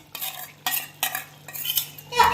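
Spicy masala being stirred into chicken for chicken curry, a spoon scraping the pan in several distinct strokes about every half second, close and clear over a faint steady hum.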